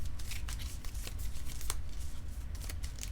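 A deck of playing cards is riffled and shuffled at a tabletop card game, a steady run of quick papery flutters and snaps up close, with no talking.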